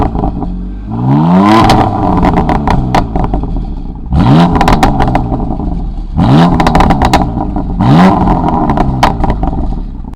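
A BMW F80 M3 Competition with a DCT gearbox and carbon parts revs hard three times at standstill, each sharp, loud climb of the engine note dropping back to a throaty idle between blips, heard close with no talking.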